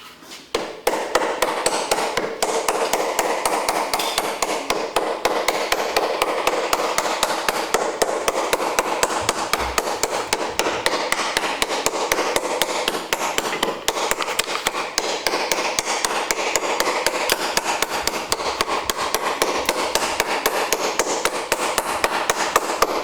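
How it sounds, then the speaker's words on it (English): Copper rivets are hammered flat on an axe handle in a fast, steady run of sharp metallic taps that goes on without a break, loud and close, with no voices. "now we've just got to flatten those over"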